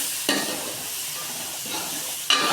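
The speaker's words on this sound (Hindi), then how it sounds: "अब इसके अंदर हम डाल देंगे टमाटर, ये भी इसमें हम डाल देंगे। इसे भी अच्छी तरह भून लेंगे।" Tomatoes frying in masala for bhindi gosht, stirred in the pan, giving a steady soft sizzle with two louder scraping stir strokes near the start and end, no voices.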